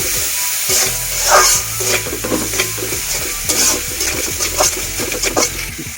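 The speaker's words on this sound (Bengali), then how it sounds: "এখন মশলার মধ্যে চিংড়িগুলো দিয়ে দেব।" Shrimp fry in a turmeric-and-salt spice paste in a pan, a loud close sizzle with frequent scraping and knocking stir strokes throughout; no voices.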